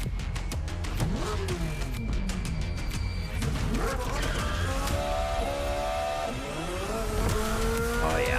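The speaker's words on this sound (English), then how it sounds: "You know they probably recorded a real Ferrari motor for that one." A Ferrari engine in the racing game The Crew Motorfest revs and climbs through the gears with rising and falling pitch sweeps, with tire squeal and skidding mixed in, loud and continuous.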